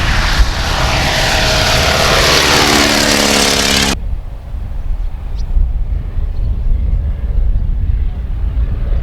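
A biplane's engine and propeller in flight roar loudly and steadily with a buzzing drone, then abruptly drop to a duller, lower rumble partway through that continues to the end.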